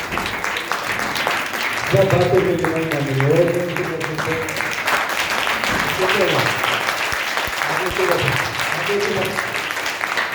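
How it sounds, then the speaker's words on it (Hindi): A congregation at a Sunday church service claps loudly and steadily, dense applause running throughout while someone speaks and exclaims over it. "और दिलदार एक बार और जोरदार ताली बजा सकते हैं।"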